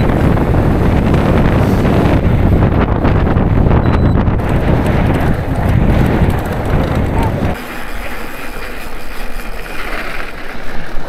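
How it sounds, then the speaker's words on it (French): A strong headwind buffets the microphone of a mountain biker crossing the Saudi Arabian desert in the 2023 Titan Desert stage race, giving a loud, continuous roaring rumble that eases slightly partway through and then returns, with no clear speech. "Et alors là, on a le vent en pleine face."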